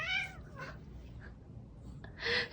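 A house cat lets out a short meow at the start and another louder one near the end, close and fairly quiet, with scuffling in between.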